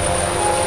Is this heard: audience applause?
no